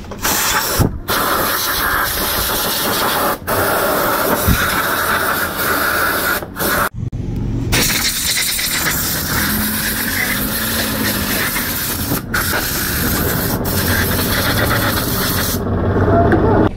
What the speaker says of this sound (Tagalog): Ito yung ginamit nating high temp na paint, spray paint para sa magneto nya.